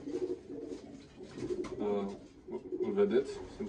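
A strong racing pigeon cooing close by in a loft, several rolling low coos in bursts, with someone talking over them.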